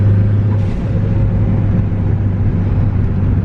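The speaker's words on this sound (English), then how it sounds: "You can really hear the intake on the hybrid turbo." A Ford Focus ST with a hybrid turbo drives along on a rainy day, its engine humming as a steady low drone and the intake whooshing continuously. The sound is heard from inside the cabin.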